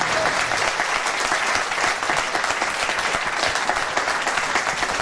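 Audience at a live music show applauds continuously, a dense, loud wash of clapping from a crowd that holds steady throughout.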